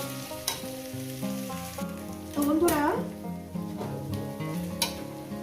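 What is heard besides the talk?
rui fish frying and being stirred in a pan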